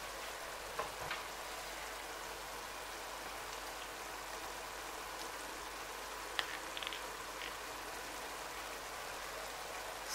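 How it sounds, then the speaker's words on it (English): Tomatoes fry quietly in a pan for Cameroonian jollof rice, giving a soft, steady sizzle with a few faint pops and clicks and no talking. "our tomatoes are halfway fried, so we're going to bring in our tomato paste at this point"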